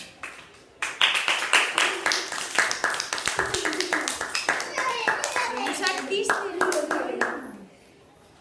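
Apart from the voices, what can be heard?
applause for school theatre performers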